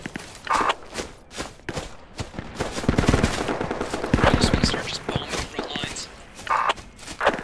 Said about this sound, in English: We're actually being shot at right now